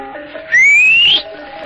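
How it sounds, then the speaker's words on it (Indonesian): A loud, clear whistle calls a horse, a single rising tone held for just over half a second and standing out strongly above a quiet background. "Ken Arok bersiul nyaring, memanggil kudanya."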